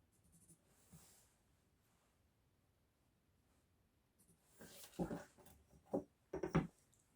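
A pen scratches across fabric while lines are marked out for a tote bag, faint at first, then a few short, close scratchy strokes near the end.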